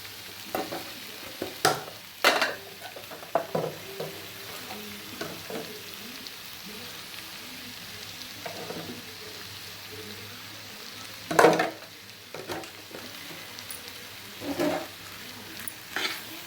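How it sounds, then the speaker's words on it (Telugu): Chili powder is stirred into a sizzling brinjal and dried prawn curry in a pan, with a soft frying hiss and intermittent scraping strokes and clacks of a spoon, close and without talk. "కారం యాడ్ చేసిన తర్వాత కారం బాగా కలిసేటప్పుడు కలపండి"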